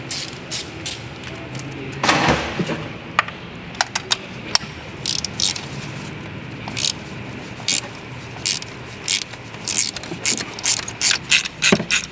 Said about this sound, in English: now I loosened all of the spark plugs